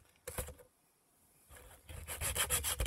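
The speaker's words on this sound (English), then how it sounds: "now it's time to get to sanding." Short bursts of sandpaper rubbing on carved wood for a bass crankbait lure, a couple of strokes, a pause, then a steadier run of rapid back-and-forth scraping, close and moderately loud.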